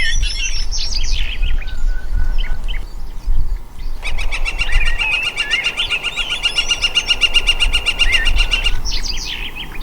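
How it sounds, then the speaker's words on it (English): Birdsong along the River Maun: several birds chirp and trill in repeated bursts, busiest in the middle stretch, over a steady low rumble of outdoor background noise, with no talking. "So as you can hear, the birds are singing and the wildlife."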